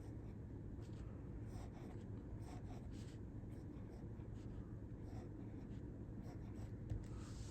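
A pen glides across paper forming cursive letters, producing soft repeated scratchy strokes in short bursts over a low steady background hum, faint and close.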